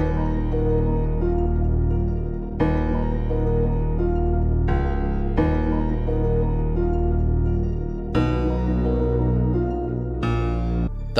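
A dark, aggressive beat built in FL Studio pairs a thick Reese bass with a Fulcrum piano bass, heavy low chords changing every few seconds in a steady, dense loop with no voices.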